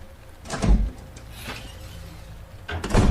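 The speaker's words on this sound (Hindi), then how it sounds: "मैंने धीरे से दरवाजा खोला" A heavy bunker door is opened slowly, heard as a few low thuds and scraping, creaking movements with quieter stretches between them.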